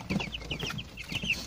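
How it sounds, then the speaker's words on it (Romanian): Young chickens cluck and peep in a farmyard, a quick run of close, high chirping calls with soft clucks beneath. "Ăștia sunt pui."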